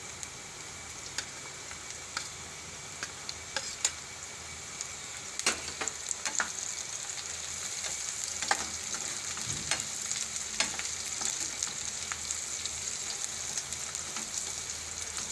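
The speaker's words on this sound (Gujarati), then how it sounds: "તો ડુંગળીને આપણે ઘડીક વાર તેલમાં સડવા દઈશું હવે આપણે આમાં કેપ્સિકલ નાખશું" Sliced onion and capsicum fry in hot oil with a steady, even crackling sizzle, broken by light spatula taps and stirring clicks, close and continuous with no voices.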